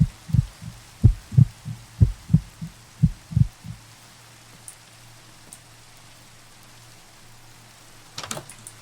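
A thudding heartbeat from the horror video game The Disturbed pounds about eight times in a quick, even rhythm, loud and close, then cuts out into near silence before a brief faint rustle near the end.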